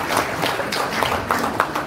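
Audience at a technical meeting for a church choir festival in Mimika breaks into steady applause, a dense wash of many hands clapping at close range with no voices over it.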